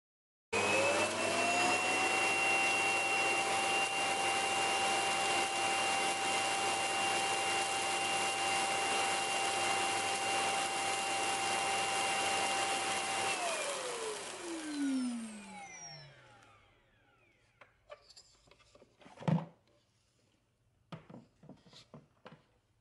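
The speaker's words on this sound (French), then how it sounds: "Le Roborock S7 Plus donc reconnaît les tapis, il a une faculté de reconnaissance des tapis." Roborock S7 Plus robot vacuum cleaner running on a floor: a steady close whirring hum with a high tonal whine for about thirteen seconds, then winding down in pitch to silence, followed by a few faint clicks and knocks.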